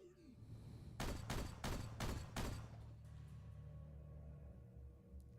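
Gunfire in the Warhammer 40,000: Regicide strategy game, a burst of about five loud, rapid shots in roughly a second and a half, followed by a low steady rumble of game ambience.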